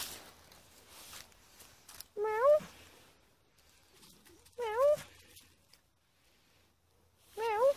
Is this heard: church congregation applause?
no